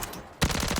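Jack Cutthroat SMG fired in a Warzone firing range: after a short quiet lead-in, a sudden loud burst of rapid automatic shots with tightly spaced, even pulses.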